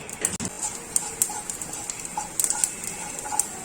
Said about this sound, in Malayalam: വെളിച്ചെണ്ണ ചൂടായപ്പോൾ കടുക് ഇട്ടിട്ടുണ്ട് കടുക് പൊട്ടട്ടെ